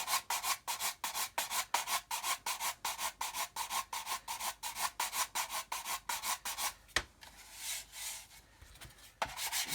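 Sprue marks on a plastic model kit are sanded in quick, rhythmic back-and-forth rasping strokes, close and fairly quiet, with a brief pause and a few slower strokes near the end.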